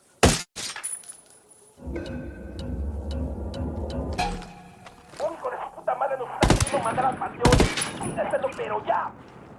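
Gunfire in the video game Ghost Recon Wildlands: loud sharp shots, bursts of automatic fire and breaking glass crack over a rumbling background, with voices talking between the shots.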